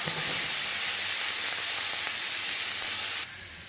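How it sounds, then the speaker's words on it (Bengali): Tomatoes seasoned with salt and turmeric fry in hot oil with black cumin in a kadai, giving a loud, steady, close sizzle that drops slightly in level just before the end. "কড়াইতে তেল গরম হয়েছে, কালো জিরা সম্বাদ দিয়ে রাখা টমেটোগুলো তেলের মধ্যে দিয়ে দেবো"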